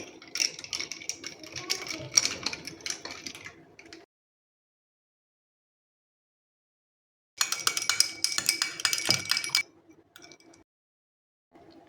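Rapid clinking and ticking of ice against glass while stirring a sattu drink, in two bursts, a few seconds each, separated by silence; no talking.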